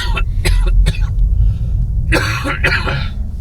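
A series of harsh coughs, three quick ones then a pause before a heavier cluster, close by over a low background rumble.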